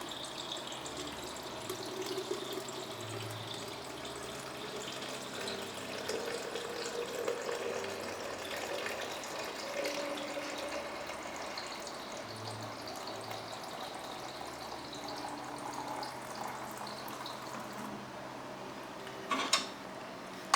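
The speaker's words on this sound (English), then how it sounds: "you add cold water into this 1 liter bottle" Cold water running from a tap into a 1 liter bottle holding coffee grounds for cold brew, a steady close hiss and splash with occasional soft knocks, ending in a brief clatter.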